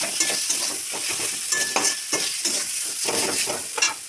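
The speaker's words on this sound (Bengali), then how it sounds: "ভালো করে মিশিয়ে দিই।" Fish cutlet mixture is mixed and pressed by hand in a bowl, a quick rhythmic run of soft squelching, scraping strokes, close and clear, with no talking.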